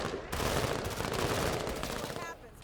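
Gunfire in the tactical game Menace: a sustained, loud burst of rapid shots starting abruptly, rattling densely for about two seconds before cutting off.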